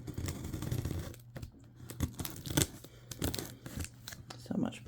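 Plastic packaging torn open by hand without a knife during an unboxing: repeated crinkling rips and tugs in bursts, close and fairly loud, with a person talking throughout.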